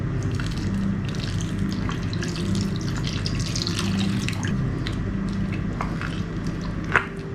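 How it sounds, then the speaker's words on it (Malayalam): First milk poured into a reduced onion and date mixture cooking in a pan, a soft continuous liquid pour and bubbling hiss, with a small clink near the end. "അപ്പം ഇനി ഇതിലേക്ക് 1 പാൽ ഒഴിക്കുകയാണ്."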